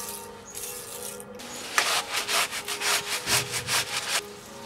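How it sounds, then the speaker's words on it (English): Wiping grease off a Dodge brake disc during a wheel bearing job: a rhythmic run of rubbing, scrubbing strokes, about a dozen regular passes at close range, with no talk. "there's grease all over the brake disc, so I'm going to clean that off."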